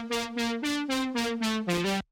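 A dry synth lead made in FL Studio plays a short melody of eight evenly spaced notes with no delay or reverb. Each note is bright and clean, and the line stops abruptly into silence.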